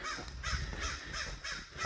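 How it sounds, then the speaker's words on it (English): A crow caws repeatedly outdoors on a warm hike, several harsh calls in a loose rhythm, fairly close and clear over faint background ambience. "That crow."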